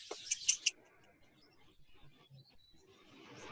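Exhibition budgerigars in an aviary give a few quick, bright chirps near the start, then settle into faint scattered cheeps and rustling, with a soft burst of chatter returning at the end.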